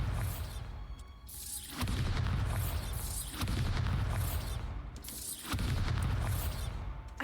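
Bombarda blasting spell in the game Hogwarts Legacy, three heavy booming explosions in a row, each a loud rumbling burst that decays before the next.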